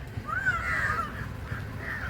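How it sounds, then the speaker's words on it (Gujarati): A crow caws in a single drawn-out, harsh call, fairly close, over a steady low rumble of background noise. "બહુ બધા કાકડા છે જો ઉપર ઉડવા માંડ્યા"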